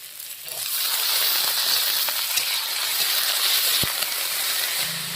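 Chili, onion and potato frying in oil make a continuous close sizzle with occasional stirring knocks and a brief clink, no talk.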